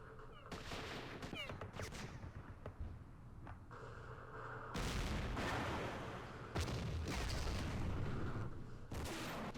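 A recoilless rifle and an anti-aircraft gun firing in a Vietnam-era war game, repeated heavy booming reports and bursts spaced across the stretch, loud and close, with faint voices at times.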